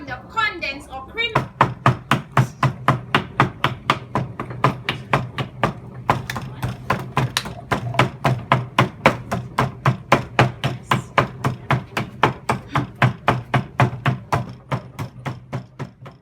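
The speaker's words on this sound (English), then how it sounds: "as you can see from the bashing and the stirring we were making the chocolate sauce" Repeated rhythmic bashing and stirring while making chocolate sauce, a long run of sharp, evenly spaced knocks close by that hold a steady pace for the whole stretch.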